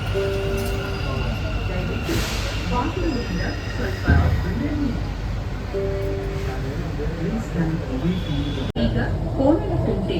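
Inside a moving metro train, a steady rumble of wheels and carriage noise with occasional squeals, while voices talk over the ride.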